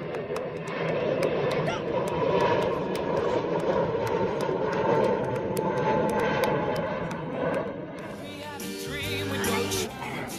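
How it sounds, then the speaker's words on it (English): A low, steady aircraft engine drone rumbles throughout as a plane approaches Burbank Airport to land, with voices talking over it and a brief tonal shift near the end. "We got plane coming in."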